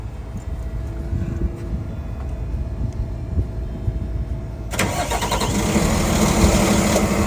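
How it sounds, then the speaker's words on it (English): A Freightliner motorhome's diesel engine cranks and catches via remote starter, a quiet idle giving way at about five seconds to a loud, steady running roar that holds to the end, with no talking. "circle down for the remote start, it'll crank right up"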